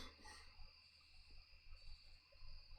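Crickets chirping in the video game Pagan: Autogeny, a steady high insect trill running faint and continuous throughout, with a low background hum beneath.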